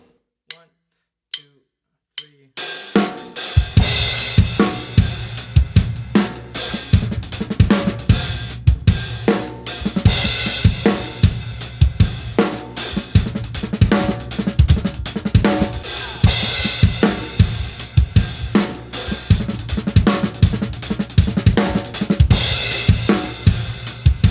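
Drum kit playing an inverted doubles rudiment groove with fast 32nd-note fill passages woven inside a slower groove, after a few sparse opening hits; steady, close and loud throughout, with no talking.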